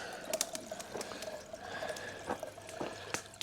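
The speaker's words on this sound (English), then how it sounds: "A bit of water, putting on the kettle." Water poured into a kettle at a campsite, soft and fairly quiet trickling and splashing in uneven bursts with a few brief drips and knocks, heard alone without talk.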